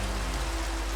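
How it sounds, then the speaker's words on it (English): Steady in-game rain from a video game hisses as a continuous, even wash of falling water, loud and unbroken for the whole second with no talk over it. "raining outside. How nice. In game, not real life"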